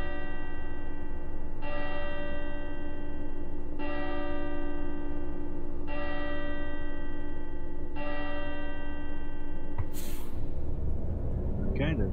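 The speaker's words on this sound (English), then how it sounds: "12 o'clock I think you get church bells ringing" In the bus-driving game Fernbus Coach Simulator 2017, church bells ring out at noon in a slow series of four evenly spaced strikes over a steady engine drone, followed by an air-brake hiss.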